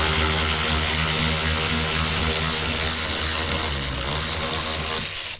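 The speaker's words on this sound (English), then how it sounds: "we're just going to take this belly pan off" Loud, steady whine of a power tool working on the underbody belly pan of a 2011-2018 Porsche Cayenne GTS with a 4.8-liter engine, running close and continuous throughout.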